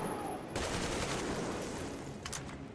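Rapid panic gunfire in the Metro Exodus video game, a dense flurry of shots starting sharply and continuing steadily, with a few louder cracks near the end.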